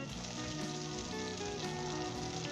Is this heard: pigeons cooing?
no